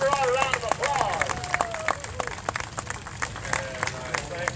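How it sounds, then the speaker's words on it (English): Steady crowd applause at a sawmill gathering for a woman's 80th birthday, a dense patter of clapping with voices talking and calling out over it throughout. "Give her all a round of applause"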